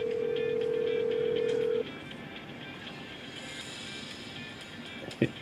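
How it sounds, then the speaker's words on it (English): A telephone's ring heard through another phone's earpiece: a steady tone holds for under two seconds, then stops, leaving faint background noise and a short sharp knock near the end. "I hear my phone ringing on his phone."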